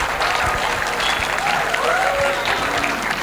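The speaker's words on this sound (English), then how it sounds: "the final round of applause has to go to Prashant" An audience at a youth development talk applauding, a dense, steady wash of clapping with no breaks, fairly loud and close throughout.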